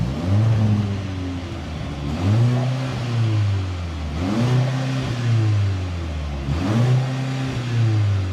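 Mercedes-AMG C63 engine and exhaust revved in four long pulls, each rising to a droning, loud peak and then falling back, with a flat, buzzy tone and nothing else heard.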